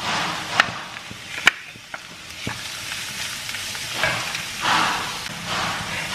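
Beetroot sautés in a pan with a soft, steady sizzle, punctuated by a few sharp scraping and stirring knocks from a utensil, heard close at moderate volume without talk.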